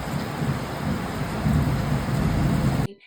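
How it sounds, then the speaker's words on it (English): Heavy rain pours steadily in Nigeria with a deep rumble of thunder underneath, then cuts off abruptly at the end. "the next minute it's pouring rain"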